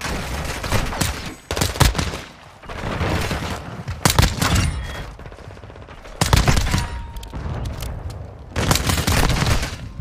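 Pistol fire from a P890 in Call of Duty MW2 multiplayer: loud, close bursts of rapid shots arrive in several clusters across the stretch, with game explosions and effects filling the gaps.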